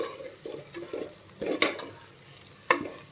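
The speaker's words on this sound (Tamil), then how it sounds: "நம்ம அந்த பச்சை வாசனை போகிற வரைக்கும் கொஞ்சம் நேரம் ஒரு 2 நிமிஷம் நல்லா வதக்கிக்கலாம்." A spoon stirs and scrapes biryani masala with fresh coriander and mint in a sizzling pan for mushroom biryani, giving soft rhythmic scrapes over a steady fry, with a couple of sharper clinks against the pan.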